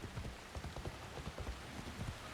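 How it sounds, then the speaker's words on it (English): Heavy rain in the video game Assassin's Creed Shadows pours steadily, a dense wash of drops pattering on surfaces with low rumbling beneath, no voices. "Oh, it's raining hard."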